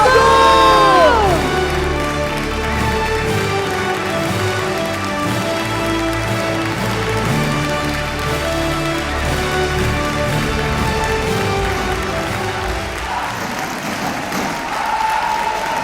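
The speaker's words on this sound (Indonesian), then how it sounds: "Kita beri aplaus luar biasa untuk Bapak Haji Febrian" A standing audience at a corporate second-anniversary celebration applauds and cheers in a loud, sustained wash of clapping, with a voice briefly heard at the start.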